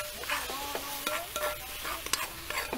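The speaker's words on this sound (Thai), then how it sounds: "ผัดให้หอมแล้วค่ะ" Chili paste sizzles as it is stir-fried in a pot, and a utensil scrapes and clinks rhythmically against the metal. The sound is close and steady with no talking.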